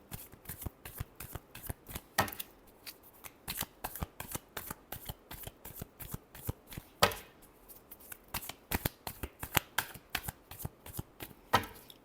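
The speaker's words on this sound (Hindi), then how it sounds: "Last shuffle." Tarot cards being shuffled in a steady run of crisp riffling flutters and slaps, close and fairly quiet, repeating many times with no talk.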